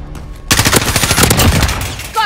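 Loud, close automatic gunfire in Call of Duty: Modern Warfare rattles out in a fast continuous burst after a short quiet lead-in.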